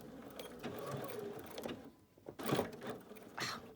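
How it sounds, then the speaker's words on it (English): A home sewing machine stitching across the elastic on a fabric face mask and backstitching over it, a quiet mechanical whirring in short runs with a brief pause between them, close and faint. "then you sew across so you catch that elastic, and then I usually back up 2 to 3 times"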